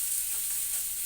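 Bhola fish frying in a hot pan for a spicy tomato curry, giving a loud and steady close sizzle throughout.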